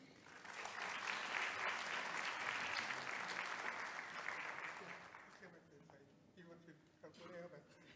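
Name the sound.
audience applause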